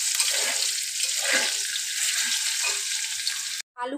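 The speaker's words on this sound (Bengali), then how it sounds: "মাংসের আলুগুলো আমি নুন হলুদ দিয়ে ভেজে নেব।" Potatoes for a mutton curry fry with salt and turmeric in hot oil, giving a steady, fairly loud sizzle with a few soft stirring scrapes, cut off abruptly near the end.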